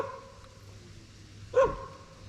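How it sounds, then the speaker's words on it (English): A single dog bark sounds once, short and fairly close, amid quiet outdoor background while someone is out catfishing at a pond. "Don't mind the dog."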